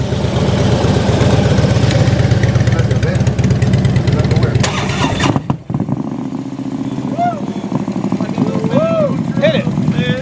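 A motorcycle fitted with Vance & Hines headers, CFR slip-on mufflers and a stage 4 kit rumbles loudly at close range with a deep, pulsing idle, then drops abruptly. After the drop it keeps idling more quietly while people talk and shout over it.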